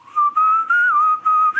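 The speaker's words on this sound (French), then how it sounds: "Je siffle." A man whistles the melody of Jesu, Joy of Man's Desiring, a clear, close, pure tone moving through short phrases with brief breaths between notes, heard alone.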